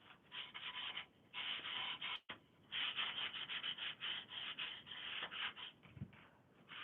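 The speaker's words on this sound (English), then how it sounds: "So I go through and sand out all the rough areas I can find" Sandpaper rubbed by hand over rough spots on a wooden sign, close and faint, in repeated back-and-forth strokes with a short pause and a brief knock partway through.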